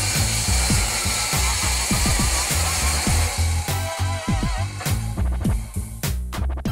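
A table saw cuts wood, a loud whining motor broken by repeated rapid chopping bursts and uneven surges as the blade bites, close up with no talking.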